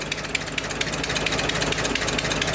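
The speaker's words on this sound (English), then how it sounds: "Yeah, definitely got an exhaust leak" A 1924 Dodge engine idles steadily with an exhaust leak, giving a loud, close, rapid ticking puff over a continuous low rumble, no voices present.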